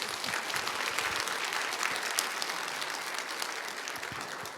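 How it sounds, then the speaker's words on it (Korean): Church congregation applauding after the pastor is introduced at a Sunday evening service, a dense steady clapping that fills the room for the whole stretch without letting up. "박수로!"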